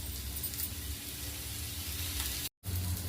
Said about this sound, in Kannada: ಸ್ವಲ್ಪ ಈರುಳ್ಳಿ ಹಾಕಿ ಮತ್ತು ಒಂದು ಸ್ವಲ್ಪ ಪಾಲಕ್ ಸೊಪ್ಪು ಇದನ್ನೆಲ್ಲ ಹುರ್ಕೋತೀನಿ